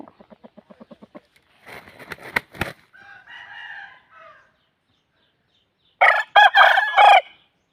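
A rooster at a Thai fighting-cock venue crows loudly and close by, preceded by rapid clucking pulses and scattered knocks, then a second strong crow near the end, with no talk.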